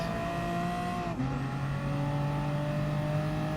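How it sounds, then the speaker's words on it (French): Race car in GT Sport accelerating, a loud steady engine drone with clear rising harmonic tones and a brief dip around a gear change, no voices. "Petite accélération là"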